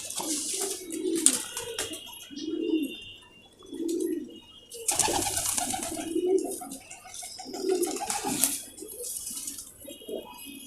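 A Moti wala jonsra pigeon coos repeatedly in soft, low, rhythmic phrases close by, with rustling, faint chirps and handling noises between the calls.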